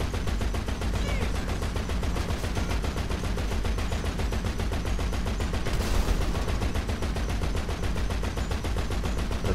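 A half-track's mounted machine gun fires in GTA 5 Online as one long, unbroken stream of rapid, loud, close shots lasting the whole stretch.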